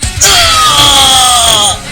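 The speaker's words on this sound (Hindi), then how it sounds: "वेजिटो बहुत दर्द में चिल्ला रहा होता है" Cartoon character Vegito screaming in pain, a loud, sustained, strained cry that swells in and holds for about a second and a half before cutting off.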